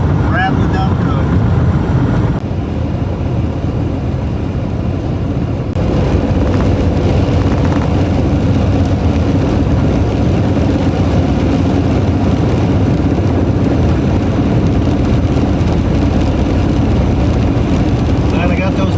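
Interior road roar of a 1998 Pontiac Grand Prix GTP driving along, loud, steady low rumble and rattle with wind noise throughout, and a voice talking over it.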